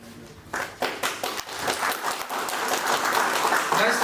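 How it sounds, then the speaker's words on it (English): An audience claps for teachers at a school Foundation Day celebration, starting from near silence and building into dense, continuous applause that grows louder and fuller toward the end. "Please give them a huge round of applause"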